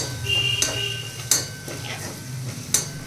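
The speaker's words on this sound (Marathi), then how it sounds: "त्यामध्ये थोडीशी आपल्याला हळद ॲड करायची आहे आणि पुन्हा मसाला छान असा परतून घ्यायचा आहे" A spoon scrapes and stirs masala with chilli powder and turmeric in a sizzling pan, with several sharp metallic clinks against the pan over a low steady fry, up close and without talk.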